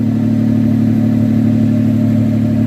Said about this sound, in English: Sounds pretty awesome. 6 cylinders breathing. Flowmaster 40.